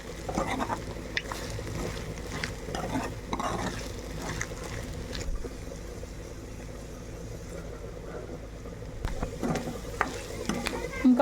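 Beef pieces frying in a pan with steady low sizzling, stirred now and then with soft scraping and clinks, close and fairly even throughout, no talking.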